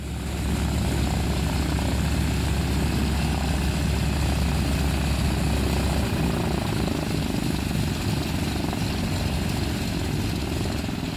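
Steady, loud engine and propeller drone heard from inside a 1928 Ford Tri-Motor propeller airplane in flight, a constant low rumble filling the whole stretch without a break or any speech.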